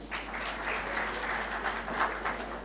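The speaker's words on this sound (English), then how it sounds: "Can we have a huge round of applause for him?" Applause from the audience at a business forum, an even patter of many hands clapping for a speaker, moderately faint and continuous across the short stretch.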